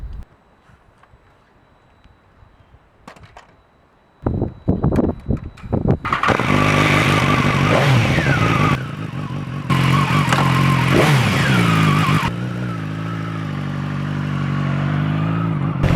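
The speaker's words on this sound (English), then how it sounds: "get on the bike, have a bit of a ride together" A motorcycle starts up after some clicks and handling noises, then revs and pulls away, its engine droning loud and close as it rides along with rising and falling throttle.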